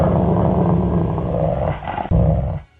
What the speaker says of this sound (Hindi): मुझे भेड़िए की गुर्राने की आवाज आने लगी।